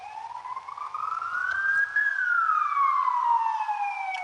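An emergency vehicle siren wails outside, one long tone sweeping up and then gliding back down, loud and clear with no voices over it.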